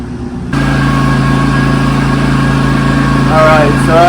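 A Champion portable generator's engine idles with a steady mid-pitched hum and vibration after its choke is eased off, running continuously and close by with brief squealing tones near the end.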